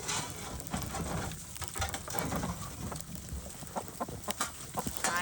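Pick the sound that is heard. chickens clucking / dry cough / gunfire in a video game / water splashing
chickens clucking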